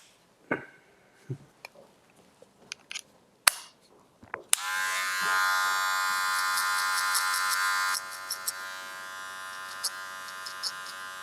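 Electric hair clippers buzz steadily and close by, cutting and blending hair in a barbershop, running continuously for several seconds after a few short clicks and taps.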